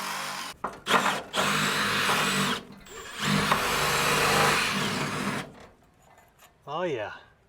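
A power drill bores into rusty metal on a VW bus, running in loud sustained whirring bursts broken by short stops, then a drop in pitch as it spins down, with a brief voice near the end.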